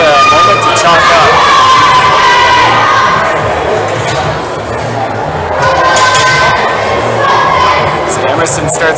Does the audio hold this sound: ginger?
no